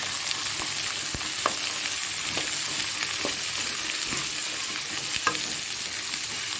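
Vegetables such as green peas, potato and beans sizzle steadily while frying in a pan for a Tamil-style veg poriyal, with a spoon stirring through them in a few distinct scrapes and clicks, close and continuous, with no talking.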